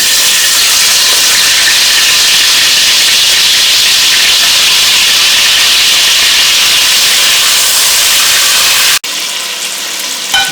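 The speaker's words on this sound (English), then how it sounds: "We are just shallow frying it just to get that bit of crispiness." Loud, steady sizzling of cooked chicken pieces shallow frying in hot oil, a dense crackling hiss that cuts off abruptly near the end, leaving a quieter background.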